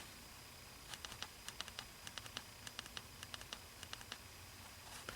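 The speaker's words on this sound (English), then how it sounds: "What you do is go ahead and do your quick click to get your bright setting, and then you double click 6 times." The switch on a ZebraLight H600 headlamp flashlight is pressed repeatedly, giving quick light clicks in short bursts and double presses over steady background hiss, with no talking.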